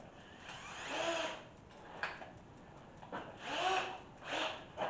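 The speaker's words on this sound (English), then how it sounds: "It's a Milwaukee M18 half-inch drill." A Milwaukee M18 half-inch cordless drill bores into wood on a job site, running in several short bursts that rise and fade, fairly faint and without talk.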